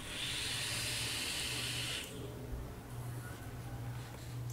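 A Haze vaporizer by VapeHead Origins, running at 75 watts, releases a steady, loud airy hiss of vapour for about two seconds, then drops to a softer, lingering background hiss.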